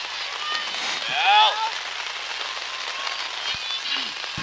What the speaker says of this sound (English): Just not a downpour yet, but a steady rain.